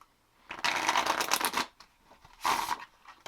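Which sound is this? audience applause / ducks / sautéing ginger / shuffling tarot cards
shuffling tarot cards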